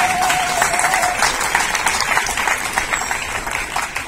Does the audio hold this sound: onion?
no